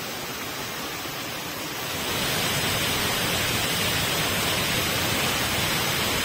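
Mangardora waterfall in Nabarangpur, a steady broadband rush of falling water that swells louder after the first two seconds and then holds constant, with no talk.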